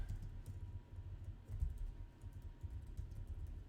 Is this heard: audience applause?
no